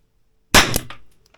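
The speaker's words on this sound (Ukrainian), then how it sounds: "Запускаємо хронограф 741 е, Вайраух, стандартні набої, його штатний барабан." A single sharp crack from a Weihrauch HW4 revolver with a 2.5-inch barrel, firing standard rounds from its stock cylinder over a chronograph, loud and close, followed by a short ringing decay.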